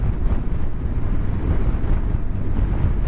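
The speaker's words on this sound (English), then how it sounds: "The wind blast I'm getting now is from the speed I'm going." Steady, loud wind blast roars across the microphone of a motorcycle rider at speed, a dense low rumble with no break.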